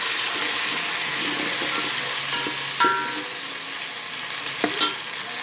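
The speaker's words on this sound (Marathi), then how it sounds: "कांदा छान फ्राय झालेला आहे आता आपण टोमॅटो फ्राय करतोय" Chopped tomatoes and onions fry in a pan with a steady, even sizzle, broken by a couple of brief clinks or scrapes near the end.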